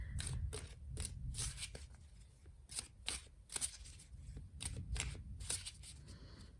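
Stiff handmade Jean Noblet tarot cards are shuffled in quick, crisp bursts of riffling and flicking, close up and fairly quiet, with short pauses between.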